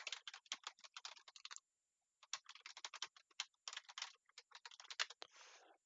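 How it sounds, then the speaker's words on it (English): Fast, aggressive typing on a computer keyboard, quick clattering bursts of keystrokes broken by a short pause, close and crisp with no voices. "all that aggressive speed typing"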